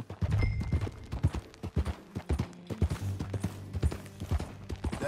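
Horse hooves clip-clopping at a steady gait while riding in Red Dead Redemption 2, close and distinct, with an occasional snort and no talk.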